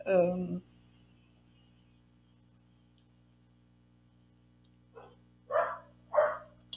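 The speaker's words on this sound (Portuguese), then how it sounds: "meu cachorro latindo" A pet dog barks a few short, sharp times, one bark at the start and a quick cluster of barks near the end, separated by a long quiet stretch with a low steady hum.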